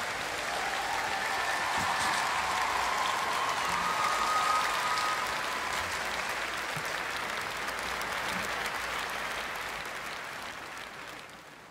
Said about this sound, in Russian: Давайте искупаем в аплодисментах.